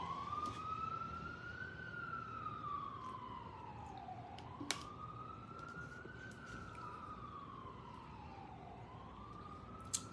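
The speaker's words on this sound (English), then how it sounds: "Let me wait till this ambulance gone." A passing ambulance's wailing siren rises and falls in slow sweeps, loud and steady over traffic rumble, with a couple of sharp clicks along the way.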